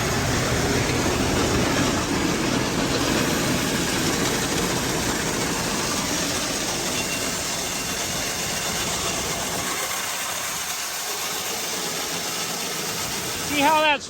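Yellow grain auger running as grain flows down into the holes of a grain bin, a steady loud mechanical rumble and rushing hiss that holds throughout before easing near the end.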